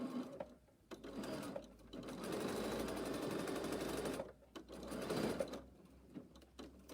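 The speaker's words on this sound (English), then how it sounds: "I'm going to stitch about an inch from the corner there and stitch all the way across" A sewing machine stitches straight across a fabric corner in a steady mechanical whir, running continuously for several seconds with brief pauses near the start and toward the end, close and moderately loud with no talking.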